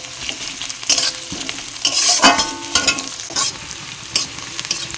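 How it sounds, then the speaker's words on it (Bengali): Chopped onions and whole cumin frying in mustard oil after frying pointed gourd, a constant crackling sizzle with repeated scraping stirs against the pan, close and fairly loud, no voices. "পেঁয়াজটা হালকা এরকম ব্রাউন কালার করে ভেজে নিয়েছি"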